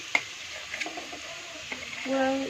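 Dried chilli, salt and turmeric being stirred in a frying pan, giving soft scraping strokes and faint sizzling close by, with a few light taps of the utensil against the pan.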